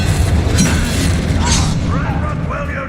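A loud booming blast from the Confringo fire spell in Hogwarts Legacy, a dense explosive burst with crackling debris that tails off over a few seconds, with shouted game dialogue mixed in.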